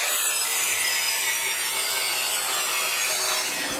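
Continuous rasping cut through excess steel on a curved bumper for a 1939 Hudson rat truck, loud and steady with no pauses for the full stretch.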